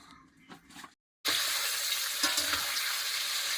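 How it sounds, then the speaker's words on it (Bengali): Potatoes frying in a wok-style pan in a home kitchen, a steady loud sizzle starting abruptly after a brief silence and continuing with crackling bursts, preceded by faint clatter. "আলুটা ভাজা শুরু করে দিয়েছে"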